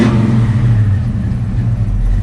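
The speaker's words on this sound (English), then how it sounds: "Mustang started right up." A Ford Mustang engine turns over and settles into a low, steady rumbling idle, loud and near, heard alone on a cold winter day.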